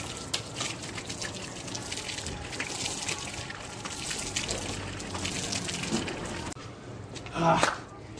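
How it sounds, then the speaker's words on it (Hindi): Water gushes steadily from a motor pump outdoors while hands are washed, a continuous splashing rush that stops abruptly near the end, followed by a brief voice. "अभी थोड़ा सा मोटर में से पानी निकाल के हम हाथ नहीं धो लेते।"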